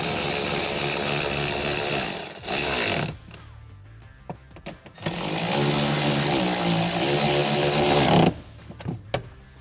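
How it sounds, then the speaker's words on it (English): Two bursts of a power tool whir close by, tightening the 10mm bolts on an Eventuri intake fitted to a C8 ZR1, each lasting a few seconds with a quiet pause between them. "tighten down your two 10mm bolts"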